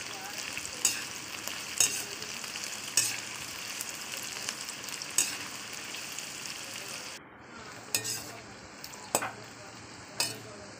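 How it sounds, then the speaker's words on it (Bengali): A large wok of onions sizzles steadily in hot oil, with sharp clicks from a stirring spoon every second or so and a brief quieter stretch near the end. "তো চলুন পেঁয়াজটাকে ভালো করে লাল লেগে ভাজা করে নেবো।"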